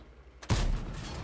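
A single heavy cannon shot fires from a GSOR 1008 tank in a tank video game on the Karelia map, bursting in loud and close after a quiet lead-in, then trailing into a long rumbling roar with no talking.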